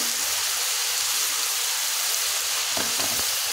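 Chopped ginger, garlic and tomatoes sizzle steadily in a hot pan, a dense continuous fry with a few brief clatters near the end and no voices.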